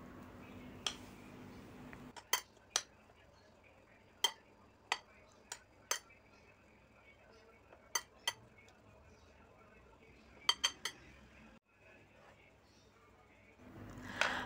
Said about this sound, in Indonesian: kemudian saya beri garam, lalu diaduk-aduk sampai merata